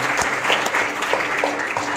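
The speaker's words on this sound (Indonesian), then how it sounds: "Mari kasih tepuk tangan." Church congregation applause during a Sunday service, steady close clapping from many hands filling the moment with little else heard.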